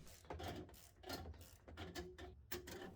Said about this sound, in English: use the 3/8 drive ratchet to rotate it